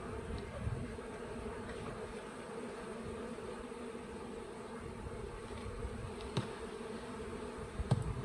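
Honey bees in an apiary during a spring hive inspection and transfer into clean hives make a constant dense buzzing drone at close range, with a few faint knocks and no talk.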